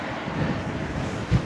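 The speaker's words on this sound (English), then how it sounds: "it's as bloody windy as hell, but I'm smiling" Strong wind buffets a cyclist riding in Thailand on a long-distance tour from Pattaya to Hanoi, a steady, loud low rumble with a brief heavier gust near the end and no speech.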